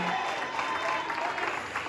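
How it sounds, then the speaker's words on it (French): A congregation at a Mother's Day Sunday church service claps steadily and loudly, a dense wash of applause with no pauses. "Applaudissez le Seigneur."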